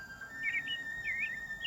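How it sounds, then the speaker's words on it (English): A little bird sings in spring, giving clear, bright chirps and whistled tweets in quick bursts over a faint steady background tone, with no voices. "Max heard a little bird sing."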